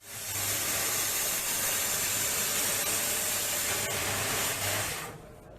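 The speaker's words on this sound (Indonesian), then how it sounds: "Dengan menggunakan gerinda, knalpot berbagai merek dan jenis dipotong petugas." An angle grinder cuts through seized motorcycle exhausts of assorted makes, giving a loud, continuous broadband hiss that holds steady for several seconds before cutting off abruptly.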